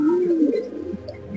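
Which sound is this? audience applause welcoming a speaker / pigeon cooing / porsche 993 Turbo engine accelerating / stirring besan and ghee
pigeon cooing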